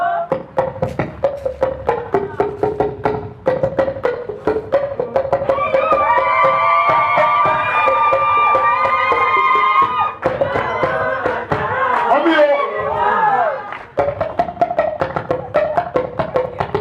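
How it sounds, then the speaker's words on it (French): An audience at a hospital donation inauguration bursts into sustained applause, dense rapid clapping with cheering and raised voices swelling over it, loud and close. "On applaudit pour notre hôpital."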